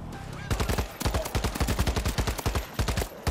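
Rapid bursts of gunfire cut loose at a zombie horde in the World War Z video game: dense, loud volleys of sharp shots in a fast, fairly regular rhythm that keep going without pause.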